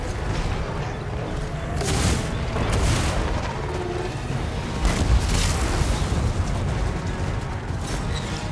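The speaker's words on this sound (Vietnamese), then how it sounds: "Mấy thằng bắn súng này bắn phê thật đấy." Gunners fire in a Total War Warhammer 2 battle, with repeated booming volleys and sharp cracks at irregular intervals over a rumbling battlefield din, no speech.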